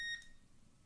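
A short electronic beep with bright stacked tones sounds at the very start, then cuts off, leaving only faint room noise during an online interview.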